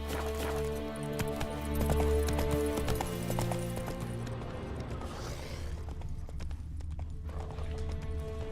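A horse gallops in the video game The Witcher 3, its hooves drumming in a fast, steady clip-clop rhythm that gradually thins and fades as it runs on.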